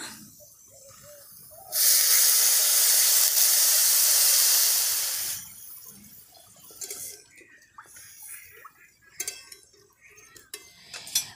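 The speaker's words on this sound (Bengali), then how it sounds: "ভেজে নেওয়া হয়ে গেছে, এবার জল দিয়ে দেব।" Water poured into a hot pan of moong dal fried with turmeric gives a loud burst of steamy hiss and sizzle lasting about four seconds, then fades to softer bubbling with light clinks of utensils.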